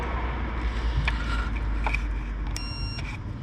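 Steady whirring hum from a Fiat Panda 4x4 radiator fan run on test, with a constant low drone and a few brief clicks and beeps, heard up close and alone.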